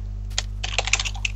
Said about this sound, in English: your clicking sound is just...